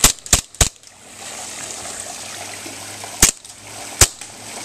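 A KJW M1911 CO2 airsoft pistol fires in a quick burst of three sharp, loud cracks, then two more single shots spaced about a second apart, with a faint hiss of background noise between them.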